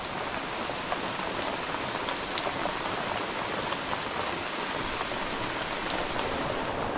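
Heavy rain drums steadily on a camping shelter in Tyresta National Park, a dense close patter with scattered louder drops and no talk.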